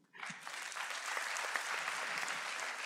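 An audience at an awards ceremony bursts into sustained applause. Dense, even clapping starts abruptly and holds steady throughout, moderately distant, with no voices over it.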